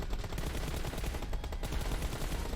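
Rapid gunfire from PUBG Mobile rattles on continuously in dense, fast repeated bursts, loud and close with no pauses throughout.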